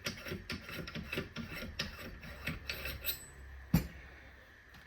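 Scraping and rubbing from handling and twisting the suppressor off a Golden Eagle gas blowback airsoft M4 DMR, with close, irregular strokes and one sharp click near the end.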